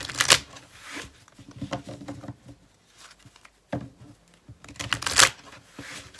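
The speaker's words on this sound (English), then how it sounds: "Let's give this a good shuffle." Tarot cards riffled and shuffled in several quick bursts, crisp papery flutters close by with short pauses between, no talking.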